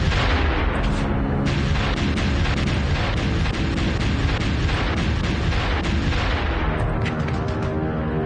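Sustained suppressive weapons fire from mecha in the anime Gasaraki, a dense, loud barrage of rapid shots and booms that keeps going without letup across the whole stretch.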